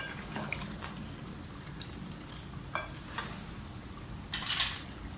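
Hyderabadi mutton masala fries in a pan with a constant sizzle, broken by a few scraping stirs and utensil clinks. The sound is close and moderately loud, with no talking.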